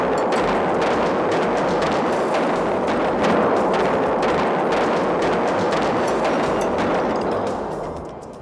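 A detonation set off inside the containment dome of a nuclear power plant being dismantled: a loud, sustained roaring crackle of blast and debris that fills the space, then slowly fades toward the end.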